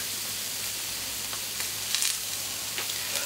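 Cooked steak tartare sizzling in a pan inside ring moulds, a soft, continuous frying hiss with a few brief louder spits and crackles, heard alone without talk.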